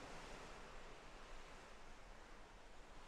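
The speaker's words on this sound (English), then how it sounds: "I love hearing the ocean waves crashing into the ship." Ocean waves wash against a cruise ship's hull beneath a balcony at night, a faint, steady broadband rush without distinct individual crashes.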